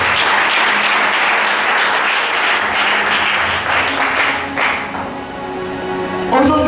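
A church congregation claps loudly in steady, dense applause that thins and fades toward the end before a brief swell returns, with some voices mixed in.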